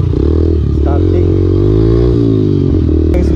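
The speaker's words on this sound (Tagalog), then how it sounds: "Right, nakahiram tayo ng motor." A borrowed motorcycle's engine runs loud and close, a steady buzzing drone with revs rising and falling, and voices talking over it.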